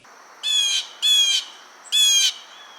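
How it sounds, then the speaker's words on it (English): Three loud, harsh bird calls close by, each about a third of a second long and spaced roughly half a second apart, with a short gap before the last one. Blue jays are among the backyard birds at a feeder. "You might see some blue jays."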